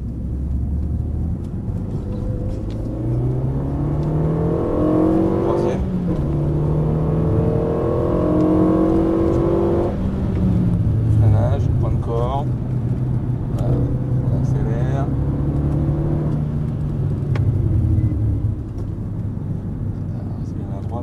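A car accelerating and braking through the corners of the Dreux race circuit, its engine rising and falling in steady sweeps of revving, with a voice speaking continuously over the engine noise.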